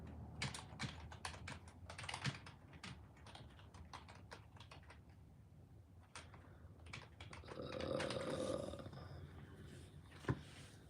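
Keys clatter on a computer keyboard in short irregular bursts at close range, with a quiet room and a brief soft rustle of other movement partway through.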